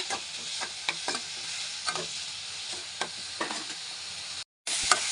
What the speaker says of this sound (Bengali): একটু নেড়ে চেড়ে আর একটু ভেজে নেব